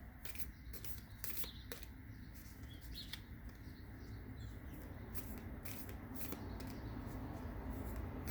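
Oracle cards being shuffled in a bursty, irregular run of soft riffling clicks, close and fairly quiet over a steady low background hum.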